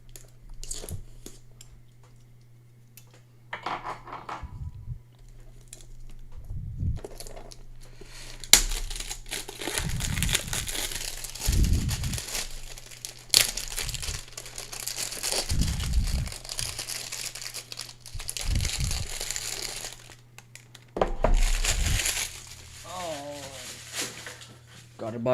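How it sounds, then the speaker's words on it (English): A utility knife slices around a clean cardboard box holding a Sirui 35mm f1.8 anamorphic lens, giving scattered crinkling, scraping and crunching bursts at close range, with a steady low hum and someone talking at intervals. "Let's go ahead and grab the knife again. And cut all around."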